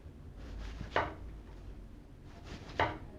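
A knife slices through a California roll sushi on a board, two separate soft cutting strokes, each ending in a crisp tap, close and quiet with a pause between them.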